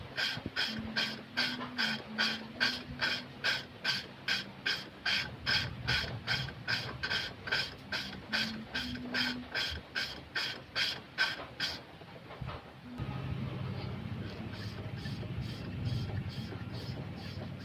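Manual lapping of an engine valve against its seat, a rapid rhythmic gritty rasp of back-and-forth grinding strokes, soft and close, that stops briefly and then gives way to a duller, smoother scrubbing.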